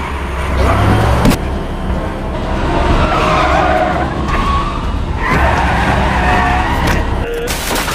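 A car in a film scene skids and plunges off the road into a forest, a loud, continuous rush of tire and crash noise lasting the whole stretch with a few sharp impacts and no talk.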